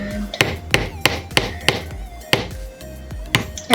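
A hammer drives a nail with about ten sharp, evenly spaced blows, each a loud, close metallic strike with no talking.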